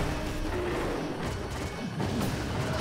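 A barrel shot and blown apart in Resident Evil 5 gives a brief smashing crash, loud and close against a dense background din.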